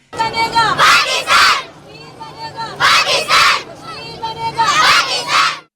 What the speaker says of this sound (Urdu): کشمیر بنے گا پاکستان کے نعرے لگائے